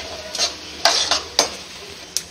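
Chana dal and urad dal roasting in a pan for vegetable oats upma, with a low hiss beneath a few sharp scraping, clinking stirs against the pan, close by and spaced irregularly.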